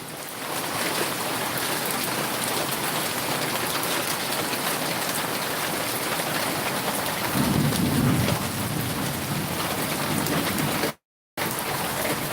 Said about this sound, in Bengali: বৃষ্টি কমেছে আবহাওয়া বেশ অন্ধকার থেকে আলো দিচ্ছে